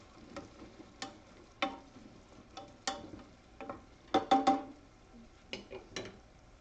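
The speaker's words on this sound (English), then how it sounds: "Just stir it around a little bit." Chopped onion and celery being stirred in a pot, a sparse series of light scraping and clinking strokes from a spoon against the metal, spaced irregularly with a soft sizzle underneath.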